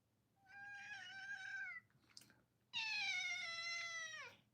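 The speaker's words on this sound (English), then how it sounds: "Meow." A house cat meows loudly at close range, two long drawn-out calls separated by a brief pause, the second louder and ending with a falling whine.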